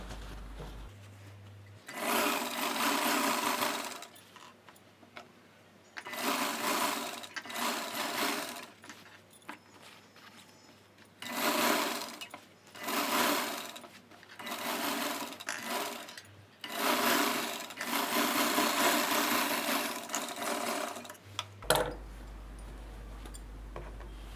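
An electric sewing machine stitches the neckline of a maggam work blouse, running in several loud bursts of rapid whirring separated by short pauses, with no talking.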